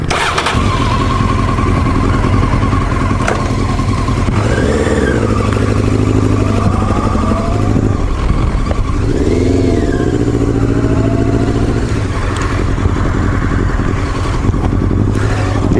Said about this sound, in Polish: O, motocykliści.